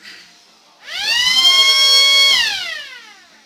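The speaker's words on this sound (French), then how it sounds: "Donc voilà, la petite sirène." A small electronic siren mounted on a Honda Shadow motorcycle sounds one loud, close wail that sweeps upward, holds steady, then slides back down and fades, standing alone with no talk.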